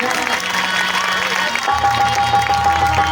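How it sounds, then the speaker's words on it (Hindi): An audience at an outdoor Ramlila performance of Sita's swayamvar in Ayodhya claps loudly and continuously, with crowd noise and a voice over a loudspeaker, as music with a steady tone enters midway. "एक बार सभी जोरदारियों से तालियों के साथ स्वागत करें।"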